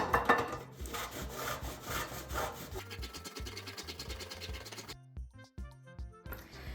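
A block of high-cacao chocolate rasped against a hand grater in a kitchen, quick repeated scraping strokes, close and moderately quiet, with a few soft knocks and pauses between passes.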